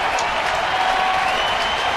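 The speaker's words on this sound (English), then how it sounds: "Fans getting up on their feet, cheering their hero out there." Baseball fans at a Padres–Giants game cheer and applaud in a steady, dense roar that fills the stadium and continues without a break.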